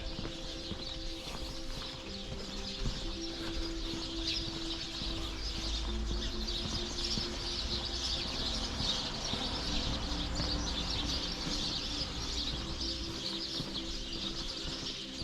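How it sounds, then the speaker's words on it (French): Birds chirp along a town street in Mazères, a steady scatter of small calls over constant outdoor hum and traffic-like rumble, with no talk. "Il y a les oiseaux."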